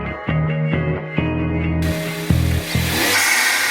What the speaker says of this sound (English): there's a clamp in there that we get to tighten down too.